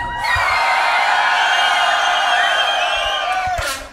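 A beatbox championship crowd screams and cheers loudly, a sustained roar of many voices with whoops rising right after a call for noise, then tapering off near the end.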